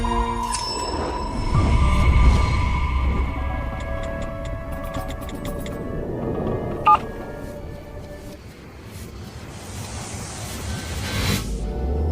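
A telephone number is dialed, a series of short electronic tones and beeps sounding over a murky background, moderately loud.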